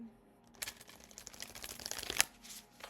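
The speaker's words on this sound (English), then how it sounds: "we're going to shuffle a couple more decks here" Card decks being shuffled in a quick riffle, a soft papery flutter building to a crisp snap near the end, close and fairly quiet.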